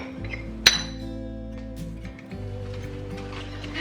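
Bacon and vegetables being stirred in a pan, with a sharp clink of a utensil against the pan near the start over a steady low sizzle, close and fairly loud, no talking.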